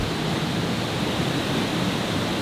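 Rushing water from a waterfall deep in the Bali jungle, heard as a dense, constant roar at close range, unbroken and without any talking.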